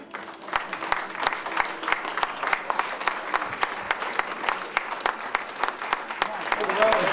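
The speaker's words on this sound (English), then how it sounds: "Applause for John Shaw." An audience applauds steadily for John Shaw of Reno, Nevada, an arm wrestler introduced at a wrist wrestling and bodybuilding event, with dense clapping throughout and a faint voice underneath.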